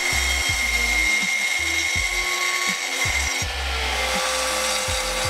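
Wooden planks for shelves are sawn by hand in quick, even back-and-forth strokes, about two per second, loud and close with no one talking.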